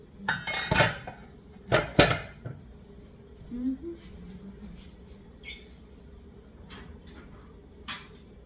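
A large metal strainer clatters in a pot of pasta, with a few loud, sharp metallic clanks at first. Lighter clinks and scrapes follow, close and intermittent, with little or no talk.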